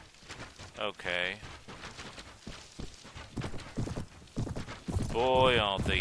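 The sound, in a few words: horse hooves clip-clopping in Mount & Blade video game battle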